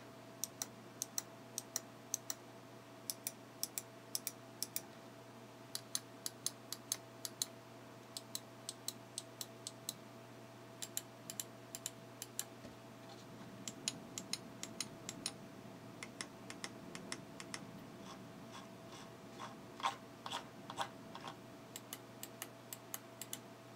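Buttons on a Roccat Kova 2015 gaming mouse are pressed, giving sharp, close, quiet clicks in irregular bursts and single taps over a steady low electrical hum, with no speech.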